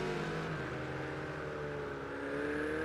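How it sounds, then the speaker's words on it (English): Race car engine in Project Cars 2, GT3-class racing at Azure Circuit, revving with a steady high whine that climbs and shifts pitch over about three seconds, loud and close with no talk. "Someone revving it up, sounds like they may have spun out."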